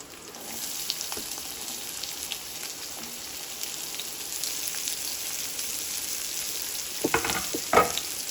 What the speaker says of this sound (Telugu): ఆయిల్ హీట్ ఎక్కింది సో ఇప్పుడు మనం కట్ చేసుకున్న ఆనియన్స్ అండ్ అలాగే ఒక పచ్చిమిర్చి కట్ చేశాను సో అవి వేసేద్దాం